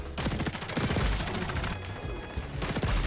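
Rapid volleys of TAC-50 sniper rifle shots in a first-person shooter video game, loud sharp cracks following close on one another in dense bursts, with a brief lull midway.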